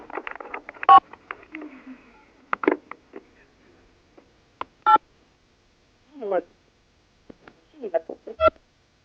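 A telephone number is redialed during a prank call: scattered short keypad beeps in uneven bursts separated by silence, with brief snatches of voice mixed in among the tones.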